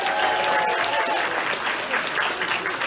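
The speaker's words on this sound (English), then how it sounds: "Give her another round of applause." Audience at a stand-up comedy open mic applauding, a dense, loud burst of clapping from a small crowd that continues steadily throughout.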